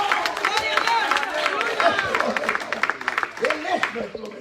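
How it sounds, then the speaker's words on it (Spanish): A church congregation breaks into applause during a sermon, a dense patter of clapping mixed with cheering voices and chatter in a reverberant hall. "fuerte ese aplauso."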